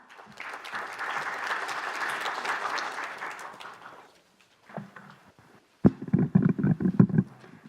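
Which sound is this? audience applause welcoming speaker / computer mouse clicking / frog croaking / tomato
audience applause welcoming speaker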